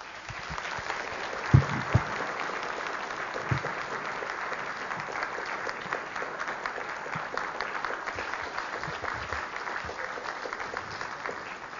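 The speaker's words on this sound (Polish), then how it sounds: "te brawa są właściwym podziękowaniem za wspaniały wykład pana profesora" A lecture audience applauds at length after a talk at a scientific debate on Maria Skłodowska-Curie's research, steady dense clapping at moderate loudness with a few sharper claps standing out near the start.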